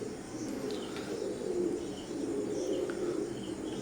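Soft, low coos from Oman bloodline Teddy pigeons repeat against a steady background hum, with a few faint chirps scattered above.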